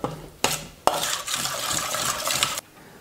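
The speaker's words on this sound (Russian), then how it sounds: "И хорошенечко это все замешиваю." A spoon stirs a tablespoon of flour into a chicken sauce to thicken it, giving a steady scraping, clinking swirl against the pan with a few sharp knocks, close and alone without talk.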